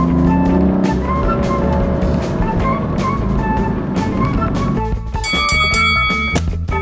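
Synthetic engine sound piped through small interior speakers of a BMW M235i Coupe, a steady loud drone with tonal layers, shifting to a sharper revving pitch near the end.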